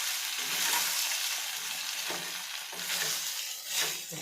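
Idli pieces stir and fry in hot oil in a pan, a steady close sizzle with scraping stir sounds rising now and then, no voices.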